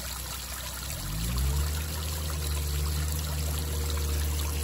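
Water from a custom garden fountain trickles and splashes steadily over rocks, close by, a continuous bubbling flow with a low hum underneath.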